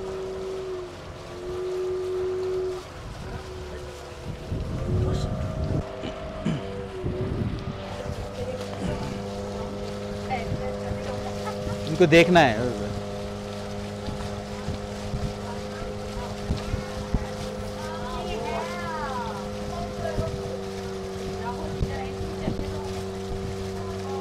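A covered boat's motor drones steadily on Pykara Lake, its low hum joined by gusts of wind buffeting the microphone, while people talk briefly over the engine noise.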